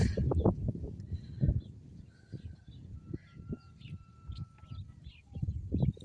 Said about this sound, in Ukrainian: Горобці цвірінькають, синички виспівують, півні кукурікають.